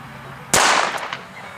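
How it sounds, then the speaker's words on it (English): A single sharp .22 Long Rifle gunshot fired at a steel-toed boot, one loud crack with a short decaying ring, heard alone outdoors. "Let's start out with a 22 long rifle."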